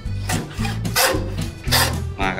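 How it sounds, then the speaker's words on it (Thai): A hand meat saw cuts through beef in a farm-to-table butchery setting, giving steady back-and-forth rasping strokes, about five close, even pulls in quick rhythm with no talk. "เลื่อยนี่สำหรับตัดเนื้อโดยเฉพาะ"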